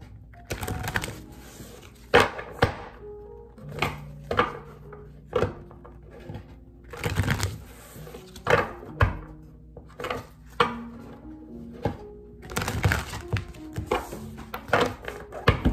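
Tarot cards shuffled by hand in three rounds, giving bursts of papery riffling and soft taps with short pauses between, close and clear with no talk.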